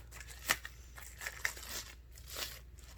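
Clear plastic wrapping around a Coms tripod selfie stick is crinkled and handled up close: soft rustling with a few sharper crackles, quiet and brief, with no voices.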